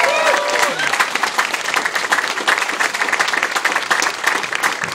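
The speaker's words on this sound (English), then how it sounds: "Let's hear it for Emily" An indoor audience at a speech event applauds an honoree, with a dense, steady wash of clapping and a little cheering lasting several seconds.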